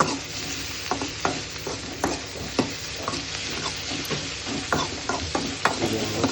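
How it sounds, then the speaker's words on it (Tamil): Green chillies and curry leaves fry in hot oil in a pan, giving a steady close sizzle broken by repeated stirring clicks and scrapes of a spoon against the pan, with no talking. "இதை நல்லா ஃப்ரை பண்ணிவிட்டு"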